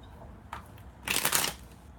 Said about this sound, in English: I'm just shuffling your cards because I really have to shuffle really hard for you guys' cards